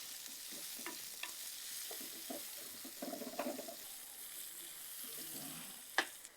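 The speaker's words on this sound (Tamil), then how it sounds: "இப்போ வெங்காயம் வந்து நல்லா வதங்கியாச்சு." Onions sauté in a pan with a soft, steady background sizzle, broken by a few faint scrapes and clinks of a spoon stirring, then a sharp utensil knock near the end.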